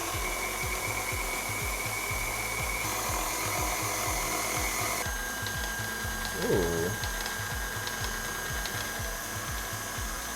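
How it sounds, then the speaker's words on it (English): Pasta roller machine cranking sheets of semolina-dusted pasta dough, a steady rhythmic mechanical clicking and whirring throughout, moderately quiet and continuous with a brief thump midway. "we're just gonna flatten these out so they'll go through the pasta roller"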